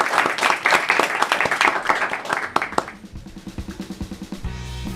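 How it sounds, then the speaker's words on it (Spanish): Applause from an audience at a Latin American animation panel event, dense clapping for about three seconds that thins out, then a few scattered claps as a voice begins speaking over a low hum. "Un aplauso también para ella."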